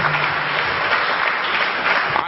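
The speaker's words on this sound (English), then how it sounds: "Give these brothers a round of applause." An audience at a lecture on Africans in early Europe applauds steadily for a couple of seconds, a dense, continuous patter of many hands at even loudness.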